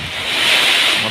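Strong gusty wind roars steadily across a village in the evening as a storm with lightning and thunder begins, a loud broadband rush that swells and holds over about a second with no voices.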